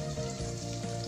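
Chopped garlic and onion sizzle in a hot pan, a steady close crackling fry with a soft stir or two and no talk.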